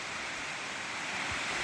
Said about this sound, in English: And that's Fall Creek Falls